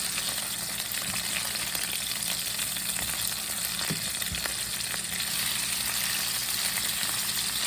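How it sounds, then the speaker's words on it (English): Cilantro and ginger beef cakes fry in a greasy pan with a steady, close crackling sizzle that runs unbroken, with a faint tap or two partway through. "You can kind of see the grease here kind of browning, so I think I'm ready to turn them over."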